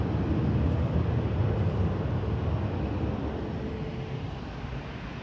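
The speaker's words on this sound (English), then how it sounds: "As Ryanair departing to Belfast with flight 193" A Ryanair jet departing Manchester Airport for Belfast gives a loud, steady broadband engine roar that fills the whole clip and eases slightly toward the end, with no voices.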